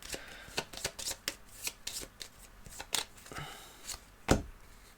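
A deck of game cards for the board game Aeon's End: Legacy is shuffled in a run of crisp riffling and tapping bursts, close up and fairly loud, with no talk.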